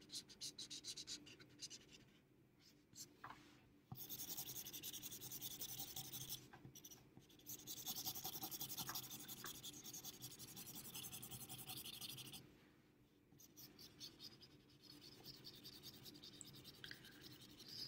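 Close, steady scratching and rubbing of coloring strokes filling in a drawing, continuing in long runs with a few brief pauses and no speech.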